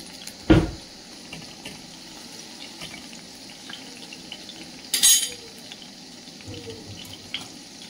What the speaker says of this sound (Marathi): तेलामध्ये मिरच्या मी आता मस्तपैकी तळून घेणार आहे